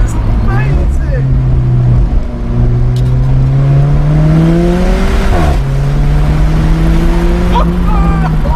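An Alfa Romeo 4C Spider in race mode accelerates hard, its engine note climbing through gears with brief shift dips, loud and close throughout while a person talks excitedly over it.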